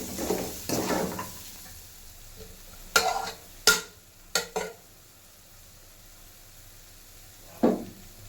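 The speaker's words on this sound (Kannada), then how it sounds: "ಇದನ್ನು ಒಂದು 5 ನಿಮಿಷ ಹಾಗೆ ಲೋ ಫ್ಲೇಮಲ್ಲಿ ಫ್ರೈ ಆಗಿ ಬಿಡಬೇಕು." A rice mixture fries in oil in a pan over a low flame, a soft, steady sizzle broken by several sharp scraping stirs and clinks of a utensil against the pan.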